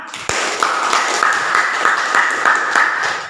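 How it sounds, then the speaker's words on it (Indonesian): Children in a classroom clap in a lively round of applause for a group, with sharp claps close by and a rhythmic patter underneath, while a high voice carries over the clapping. "tepuk tangan untuk kelompok 1 anak-anak"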